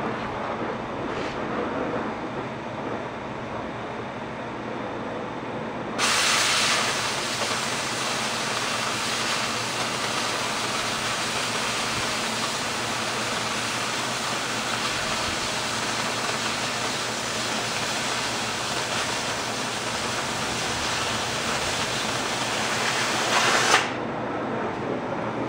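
An oxy-fuel cutting torch roars through thick half-inch steel with a constant, loud broadband hiss, rising sharply when the cut begins and holding steady before cutting off near the end.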